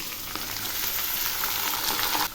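Mixed vegetables frying in hot oil with nigella seeds and four slit green chillies, a loud, continuous close sizzle with faint scraping stirs and a brief dip near the end.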